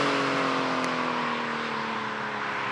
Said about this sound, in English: That was third gear, high-speed acceleration.